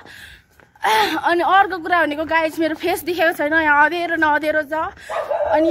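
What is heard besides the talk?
dog barking in the dark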